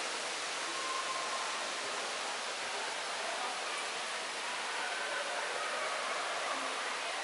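Steady broadband rush of an indoor waterfall at Gardens by the Bay in Singapore, heard at night as a constant, even roar of falling water that never changes level.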